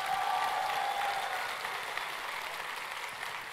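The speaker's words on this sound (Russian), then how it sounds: "Дайте обратную связь аплодисментами." An audience at an Oriflame entrepreneurs' congress bursts into sustained, even applause, many hands clapping together in a dense continuous patter that fades slightly toward the end.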